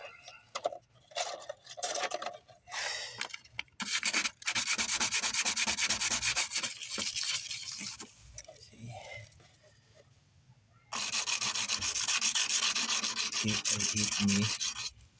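Filler on a car body is sanded by hand with 100-grit sandpaper in rapid rasping strokes, loud and close, in repeated bursts with pauses and a little talk.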